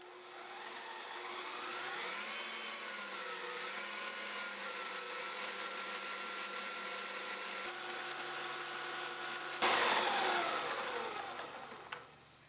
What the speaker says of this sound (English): we're going to mix this again until the eggs has been incorporated